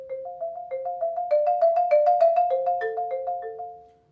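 A mallet percussion instrument plays a phrased passage of repeated ringing notes, shifting pitch partway, with clear struck attacks that swell and fade in an arc, alone and close.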